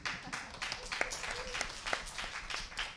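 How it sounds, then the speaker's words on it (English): Audience at a recycling forum at Amherst College clapping in a steady patter of applause, moderately close, with some voices mixed in underneath. "Give her another round of applause."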